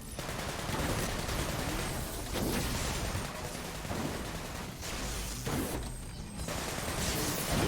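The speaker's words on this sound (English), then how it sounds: "I don't know why I'm using the AK." Dense AK rifle gunfire rattles in the Sunset Overdrive video game: continuous loud automatic bursts with heavy booming layers, briefly easing a few times before resuming, and no talk.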